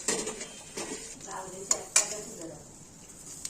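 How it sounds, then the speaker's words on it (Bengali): Pointed gourds are turned over in an oiled pan with a spatula, making a few close scrapes and clinks against the metal over a faint sizzle. "এখন পটলগুলো পাল্টে দিচ্ছি"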